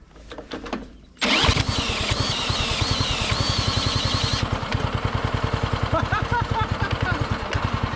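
A John Deere engine is started on choke after some clicking, catching quickly and settling into a loud, rapid, rhythmic chugging idle close by, with a voice speaking over it briefly.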